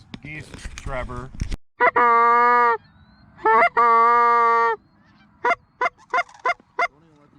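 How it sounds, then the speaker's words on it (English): Canada geese honking on opening day of a goose hunt, long loud drawn-out calls alternating with short sharp honks, following a moment of talk at the start. "Alright, let's go fucking get these geese, Trevor."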